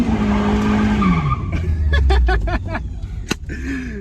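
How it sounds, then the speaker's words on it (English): A Mazda Miata revs hard and dumps the clutch for a burnout, its engine roaring close by while the tires squeal loudly in repeated bursts over a steady drone. "Hold it to the floor. Dump the clutch, and just go a little ways and then stop."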